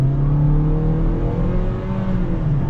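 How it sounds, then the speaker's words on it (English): Engine of a 2025 Toyota Corolla SE revving in sport mode while accelerating, a steady droning whine from inside the cabin, loud and continuous with a slowly rising pitch. "it definitely revs a lot"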